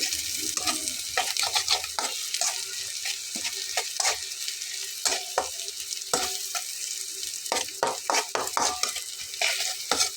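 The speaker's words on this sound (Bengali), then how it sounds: "মশলাটা খুব ভালোভাবে মিক্সড হয়ে যাবে পানিটা দিলে" Bitter gourd and potato pieces with spices being stirred in a pan, close-up scraping and clinking of the spoon in an irregular rhythm over a soft, steady sizzle, with no voices.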